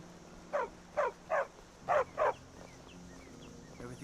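A dog in Skyrim barks five times in quick succession, sharp, fairly close yaps in two bursts of three and two, followed by quieter background ambience.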